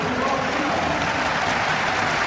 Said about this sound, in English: get applause from not just the Toulouse fans, but the Leinster ones as well